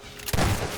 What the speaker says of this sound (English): So let's shotgun them from down here.